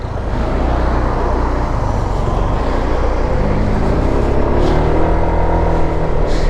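A Honda PCX160 scooter engine runs steadily at close range, a continuous low hum with faint rising tones near the end and no talking over it.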